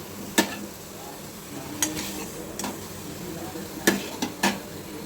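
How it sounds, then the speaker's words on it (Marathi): Paneer is pan-roasted in a kadhai and pushed aside with a spatula, producing a few sharp metallic scrapes and clinks over a soft, low sizzle. "आता ह्याला मी साईडला काढून घेणार आहे।"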